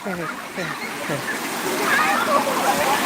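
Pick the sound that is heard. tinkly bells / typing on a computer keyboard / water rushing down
water rushing down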